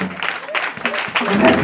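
A church congregation applauds the Lord during a Sunday service, a steady wash of clapping rising and falling over about two seconds, with voices mixed in.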